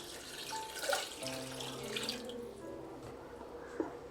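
Second coconut milk poured into a simmering chicken curry gives a soft liquid trickle and splash, with a few light clinks from the pot. It is faint and close, with no talking.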